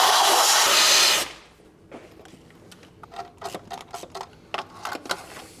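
Spark plugs being unscrewed from the V12 engine of an Alpina B12 6.0. A loud whirring burst from a power tool is followed by a run of close metallic ratchet clicks and tool taps.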